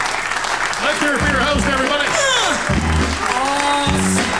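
Audience applause and cheering fills a comedy club while a host talks loudly over it, the clapping steady throughout.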